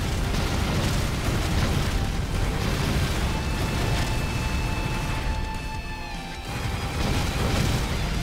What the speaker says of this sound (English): Oh, the explosions are so good.